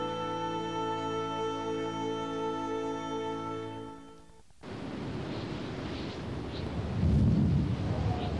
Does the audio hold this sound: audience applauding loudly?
no